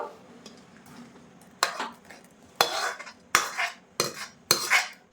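Hot malai scraped out of a pan into a bowl, a series of close metallic scrapes and clinks of a utensil against cookware, about five strong strokes after a quieter start.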